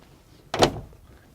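The cab door of a LiuGong 922E Tier 4 Final excavator opens with a single short latch clack and a brief swing noise close by, surrounded by quiet.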